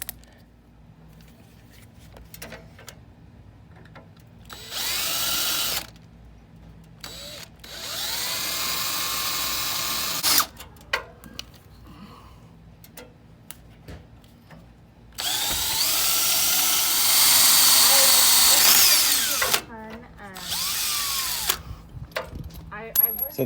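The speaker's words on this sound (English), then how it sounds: "I'm using a 3/16 drill bit to drill a pilot hole for the self-tapping screws" A power drill with a 3/16 bit bores pilot holes for self-tapping screws while installing inner fender liners on a Jeep Wrangler JKU. The whine comes in several bursts of a few seconds each, rising as the bit bites, with quiet gaps between.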